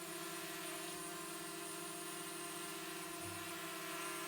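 A DJI Mavic Mini drone hovers close by outdoors after a snowstorm in Quebec, giving off a steady, loud high-pitched whine of buzzing rotors with layered tonal hum that holds constant throughout, with no talk.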